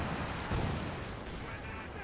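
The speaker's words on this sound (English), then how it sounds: "High explosive rounds trying to hit, but luckily misses target." High-explosive shells fired in a Company of Heroes 2 battle, heard as a dense, low rumbling barrage with one heavier thump near the start, kept at a fairly quiet level throughout.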